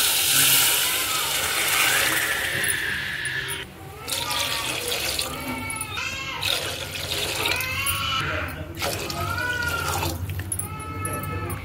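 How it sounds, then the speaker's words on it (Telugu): Water pours steadily into a pot of chicken biryani, a gurgling splash that rises and falls over several seconds, with faint talk and kitchen clatter in the background. "ఇప్పుడు వాటర్ వేసేద్దామండి"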